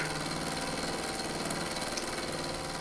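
A Proxxon FF230 mill taking shallow cuts in 316 stainless steel washers, a steady motor hum with fine, fast cutter chatter, constant and close with no talk.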